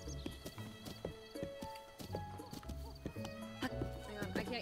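A horse in Breath of the Wild walks with a steady clip-clop of hooves and lets out a whinny, faint game sound effects over a low musical background.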